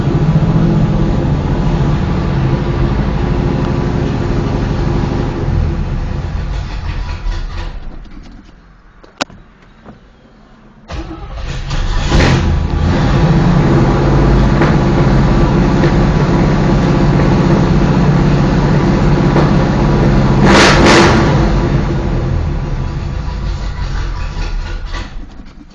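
A Chevrolet Nova SS with 35,000 original miles idles high while warming up from cold, a loud steady engine drone that dips briefly before surging back at full volume with sharp mechanical ticks.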